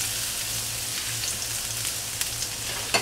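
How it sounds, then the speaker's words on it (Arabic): Garlic frying in olive oil in a large pan: a continuous close, bright sizzle with a faint low hum underneath and a couple of sharper spits near the end. "في البداية احط فيها شوي زيت الزيتون والثوم، اقلي في البداية الثوم شوي"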